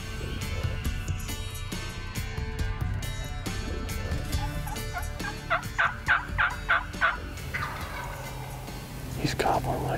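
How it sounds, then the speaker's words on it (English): A wild turkey gobbles in a rapid run of loud, rattling calls midway, set against an outdoor background with scattered clicks and rustles, during a spring turkey hunt. "He's gobbling like crazy"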